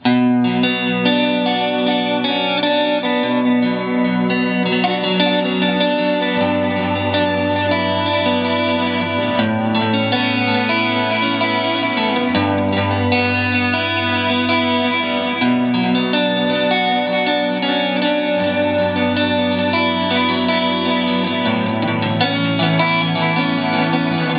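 An electric guitar plays sustained chords and notes with a steady wavering vibrato, the pitch gently wobbling throughout, loud and alone with no voices.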